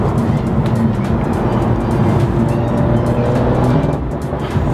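Steady, loud engine drone and exhaust rumble from a manual BMW F87 M2 with an N55 engine while driving, heard from inside the car, continuous throughout with a slight dip near the end.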